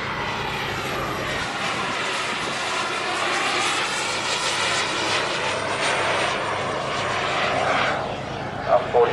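A radio-controlled model of a German fighter plane flies at an RC airshow, its engine a loud, sustained roar that rises and falls slightly as it passes, with a voice talking over it.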